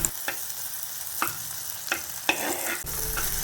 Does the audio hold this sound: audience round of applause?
no